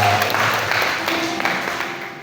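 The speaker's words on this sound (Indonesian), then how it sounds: "Kita berikan tepuk tangan sekali lagi." A church congregation applauds together during a Sunday-morning sermon, a short dense burst of clapping that fades slightly over a couple of seconds.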